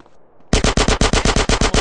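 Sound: gunfire from a gun in the video game GTA San Andreas

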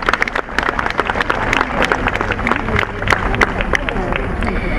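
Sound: audience applause for a music group

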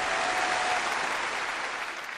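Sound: audience applause

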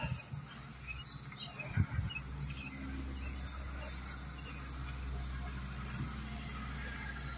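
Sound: Whitfield County transit bus engine idling

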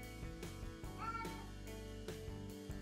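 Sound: cat meowing at a closed door

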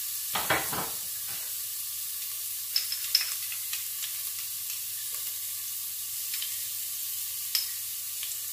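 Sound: garlic cloves frying in olive oil

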